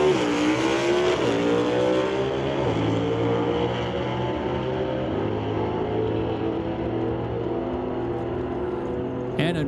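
Stock C drag race cars at an NHRA Northwest National Open Series event, a loud sustained engine drone with shifting pitch as the cars run, fading slightly toward the end.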